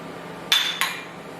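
A utensil knocks twice against a pot of curry while it is being stirred, two sharp metallic clinks about a third of a second apart over a quiet background, with no talking.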